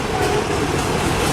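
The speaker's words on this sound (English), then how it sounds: "Alright guys, here's the train." A CN 382 northbound freight train made up of car-hauler railcars passes in Richmond, Michigan, on a cold, icy day: a loud, steady, close broadband rumble and rolling noise that continues throughout.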